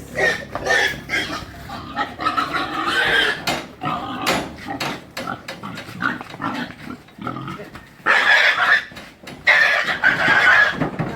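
Fattener pigs about four months old on a provincial farm grunting and oinking in repeated bursts, with louder squealing stretches toward the end, fairly close with some clattering in the background.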